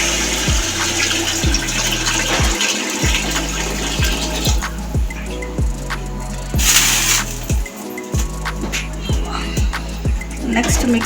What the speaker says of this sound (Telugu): సో ఇప్పుడు వాటర్ యాడ్ చేసుకుందాం